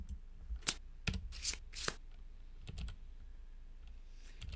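Playing cards being shuffled, several quick riffling bursts in close succession up close, followed by a few lighter card taps and soft handling noises.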